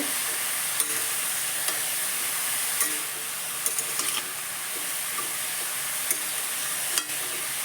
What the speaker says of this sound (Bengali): এবার আগে থেকে ভিজিয়ে রাখা কাঁচা ছোলা এর মধ্যে দিয়ে নেব দিয়ে একসঙ্গে ভালো করে একটু মিশিয়ে নেব